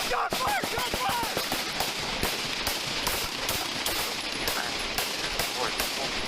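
Rapid bursts of gunfire heard over a Corpus Christi police scanner radio, dense repeated cracks through a compressed, noisy radio channel during a police incident.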